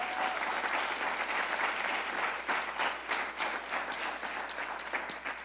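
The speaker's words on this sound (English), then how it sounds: "Please give him a round of applause." Steady applause from an audience, a dense wash of many hands clapping at even loudness throughout.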